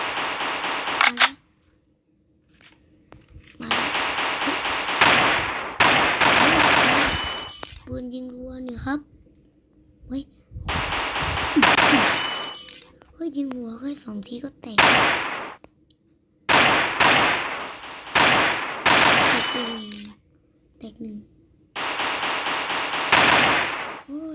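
Bursts of video game gunfire in campaign mode come as loud rapid volleys broken by short silences, with a voice talking over parts of the play.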